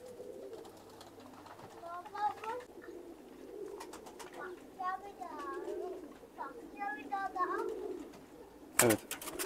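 Hungarian bango pigeons, newly settled in a coop, give repeated soft warbling coos in several bursts over low background noise, with a sharp burst of noise near the end.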